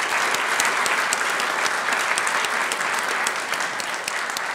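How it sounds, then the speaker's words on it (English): Sustained, dense applause from a large crowd at the GDC 2015 game developers conference, loud and steady throughout with many hands clapping at once. "I wanted to give them a big round of applause"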